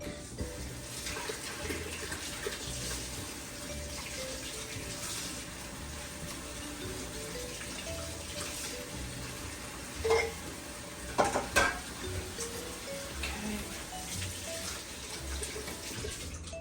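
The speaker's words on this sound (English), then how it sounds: "I'm gonna wash them off real quick here in the sink." Water running from a kitchen sink tap as peppers are washed, a steady rushing flow through the whole stretch with a few louder splashes and clatters near the middle.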